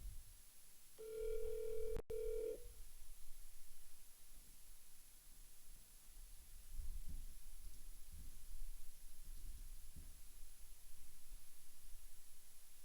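An outgoing phone call places a single electronic ring tone, a clear buzzing tone lasting about a second and a half, followed by a long stretch of quiet line hiss with faint low thumps.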